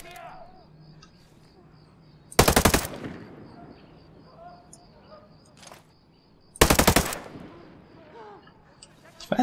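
Automatic gunfire in the video game Ghost Recon Breakpoint comes as two loud, rapid bursts several seconds apart, with faint ambient game sounds and soft talking in between.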